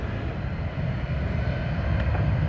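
A Southwest Airlines airliner taxis at Austin-Bergstrom airport on its way to Dallas Love Field, a steady low engine rumble and whine that holds at moderate loudness without speech.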